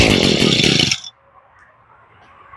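An ECHO GT-200R string trimmer, long left sitting, fires up on the first pull and roars loudly at high revs for about a second before cutting off abruptly, leaving near silence.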